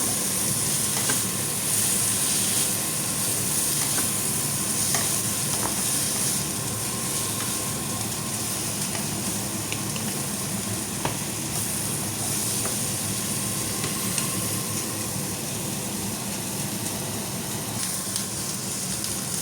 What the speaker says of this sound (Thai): ผัดหอมหัวใหญ่กับเนยก่อนนะคะ